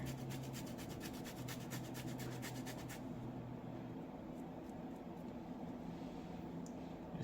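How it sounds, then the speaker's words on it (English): Fresh ginger is grated close by in a quick series of soft, rhythmic rasping strokes over a few seconds, then the scraping fades into a quieter, steady kitchen background. "Grate on a little fresh"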